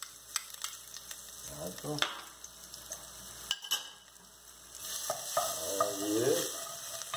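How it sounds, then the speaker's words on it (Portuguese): Garlic frying in a pan: a faint, steady sizzle with scattered stirring scrapes and utensil clinks, as a voice speaks briefly over it near the end. "Vamos colocar aqui o alhinho, né? Pra fritar."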